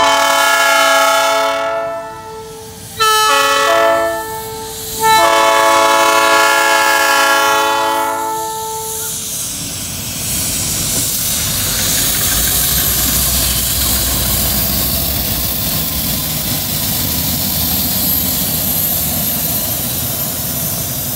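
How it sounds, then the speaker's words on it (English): Locomotive shunting on a classic short line American railroad, opening with a loud multi-tone air horn sounded in several blasts, then a steady diesel engine rumble and rolling rail noise continuing for a long stretch. "Now they're going to couple onto those other two engines right there"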